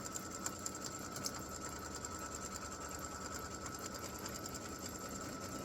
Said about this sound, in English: now it's going to do the satin stitching around most of the design